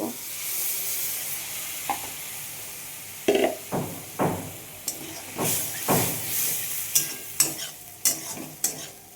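Prawns with green chillies being stirred in a kadai, a hissing sizzle with a string of sharp spatula scrapes and clanks against the pan, growing busier toward the end.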